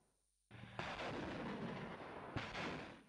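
Heavy explosions boom across Kyiv during Russian missile strikes, a sudden loud blast followed by sustained rumbling roar, with a second sharp detonation surging near the end; no voices.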